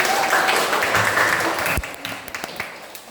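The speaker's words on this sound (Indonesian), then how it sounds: "beri tepuk tangan dulu" Classroom applause from students in a lesson, brisk dense clapping that stops abruptly partway through, followed by a few scattered claps and quiet room noise.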